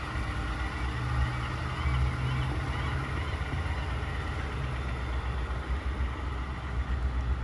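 A 2018 Ford F-150 pickup with a 5-liter V8 and 65,415 km on it idles at a steady, even rumble, low and constant throughout with no change in revs.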